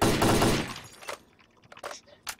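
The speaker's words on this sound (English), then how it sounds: "I like the sound of glass breaking, but nothing actually breaks." Glass shatters in the S.T.A.L.K.E.R. special edition mod: a loud, bright crash up front, then scattered small crackles and tinkling fragments fading over the next two seconds.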